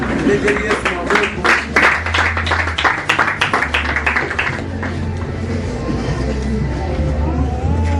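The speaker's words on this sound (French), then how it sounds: "On acclame pour la paix." A church congregation breaks into applause for peace during a service, loud scattered clapping that swells then thins out beneath a speaking voice and crowd murmur.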